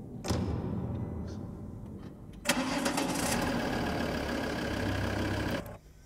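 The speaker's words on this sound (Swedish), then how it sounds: "Eller en bil som startar." A car engine cranks for about two seconds, catches with a sudden roar and settles into a steady idle before cutting off, recorded dry and close with no room echo.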